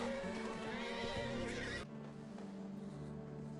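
A horse whinnies in a video game, a loud, wavering neigh that breaks off abruptly halfway through, leaving a lower steady tone behind.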